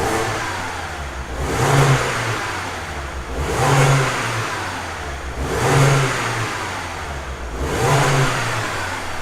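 A 2014 Mini Cooper S engine revs up under load in four repeated surges about two seconds apart, each rising and falling with a rough, uneven edge from a misfire, close and loud with no talking.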